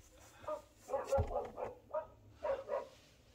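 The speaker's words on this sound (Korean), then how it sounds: "누가 짖는 거야, 제니야?" A rescued dog barks a handful of short, sharp woofs and yips in a quick, irregular run, close by at moderate volume, within a short burst.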